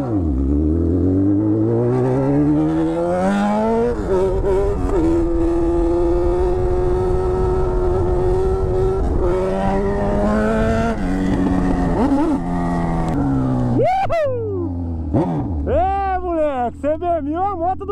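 A Honda CB1000 motorcycle revs hard and rises through the gears, its engine note climbing and falling in long sweeps before sharp revving bursts near the end, with people talking over it.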